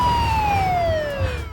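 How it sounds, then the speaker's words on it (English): An ambulance siren sounds a single loud, clear wailing tone that slowly glides downward in pitch over a low traffic rumble, with no talking. "The ambulance arrived."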